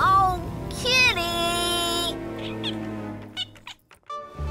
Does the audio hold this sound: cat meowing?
yes